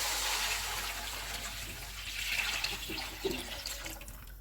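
Water poured into a pot of fried onions, whole spices, salt and green chilies, measured for rice, giving a continuous splashing gush with a few bubbly gurgles toward the end.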